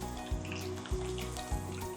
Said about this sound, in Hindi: अब इसी तेल में मैं फ्राई करी हूँ करीबन 15 से 20 लहसुन।